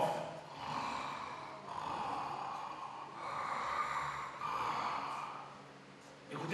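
A voice imitates a man snoring, giving slow, rough rasping breaths in a steady rhythm of about four long snores, close and fairly quiet.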